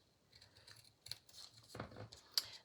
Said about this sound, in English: I'm just going to cut off the edges.